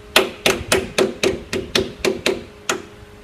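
A hammer taps pillow blocks into a steel channel, about ten sharp close strikes at a steady rhythm, each ringing briefly with a metallic tone.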